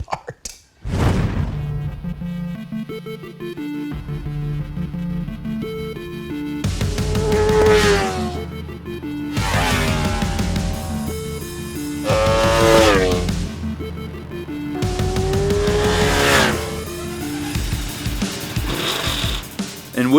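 A Ducati motorcycle on a racetrack, its engine revving hard in several loud, rising bursts that climb steeply toward the rev limiter, with short drops and pauses between each pull.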